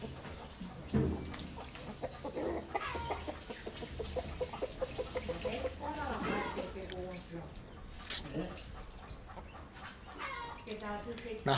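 On a rural farm, a rooster calls his hens to feed while chickens cluck around him. People talk in the background and the calls come in irregular bursts, moderately close.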